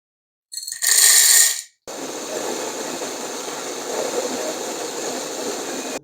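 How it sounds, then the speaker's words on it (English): A home coffee grinder set to its coarsest setting runs on coffee beans: a short loud burst, a brief silence, then a steady whirring, rattling grind that carries on at constant loudness to the end. "So I have to set the grinder first."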